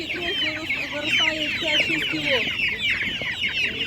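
Several chickens, including meat-and-egg breed chicks, cluck and chirp continuously at close range at an animal market, a busy overlapping chatter of hens and chicks.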